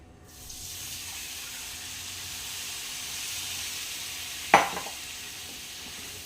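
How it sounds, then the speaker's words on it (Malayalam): Steady frying sizzle of chili powder in a pan, with a sudden loud hiss as tamarind water hits the hot pan partway through, then the sizzle settles back down. "നമ്മുടെ പുളി വെള്ളം ഒഴിച്ചു കൊടുക്കാം"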